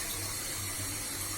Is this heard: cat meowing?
no